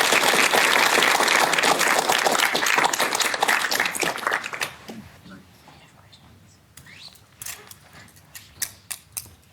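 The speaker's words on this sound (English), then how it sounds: "let's give them another applause" Audience applause at an astronomy public lecture, a dense, loud burst of clapping for about four seconds that thins into scattered claps, shuffling and quiet murmurs in the room.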